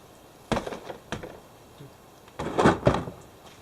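An interior door panel is taken off a 2005 Chevrolet Silverado, giving a series of faint plastic knocks and rattles, first two separate taps and then a longer cluster of scraping clunks, over steady background hiss.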